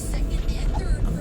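A car drives along a snowy, foggy, slippery road in heavy snowfall, a steady low engine and road rumble heard from inside the vehicle.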